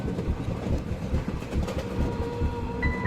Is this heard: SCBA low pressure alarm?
no